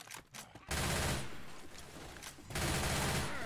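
Gunfire in Left 4 Dead 2, with two long dense bursts of rapid shots that sound loud and close, separated by a brief break.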